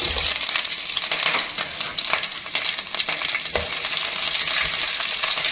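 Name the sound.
cumin and chillies frying in oil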